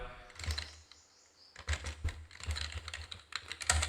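Fingers typing on a computer keyboard while entering text in MS Word: close, irregular clicking keystrokes that pause briefly near the middle, then resume in quick bursts.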